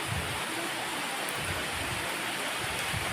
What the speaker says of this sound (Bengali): একটু জোরে বৃষ্টি হচ্ছে